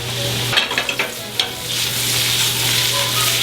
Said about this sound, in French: Pommes de terre rissolées, ail.